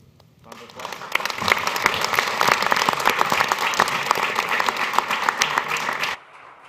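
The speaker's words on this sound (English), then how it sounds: "Round of applause." A crowd at a startup expo breaks into applause, a dense burst of clapping that rises quickly, holds steady for several seconds, then stops abruptly.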